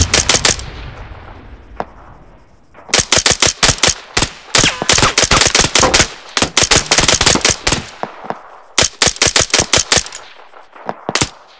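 Rapid automatic gunfire in a military shooter game crackles in loud, dense bursts, opening with a brief volley, then long stretches of rattling fire after a short pause, ending in scattered shots.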